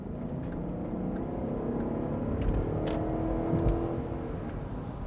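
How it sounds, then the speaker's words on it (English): A V8 Range Rover engine purrs steadily in second gear in manual mode, a smooth low rumble that swells gently with light acceleration and settles again, heard from inside the cabin with no talking. "second gear, listen to the purr of this V8."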